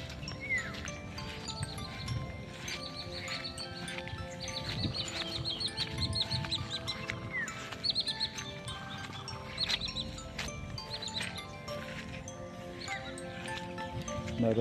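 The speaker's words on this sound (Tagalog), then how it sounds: "Meron tayong mga maririnig na mga ibon." Birds chirp and tweet repeatedly in the distance near a flooded rice farm, over a dense, steady outdoor background, the calls short and scattered throughout.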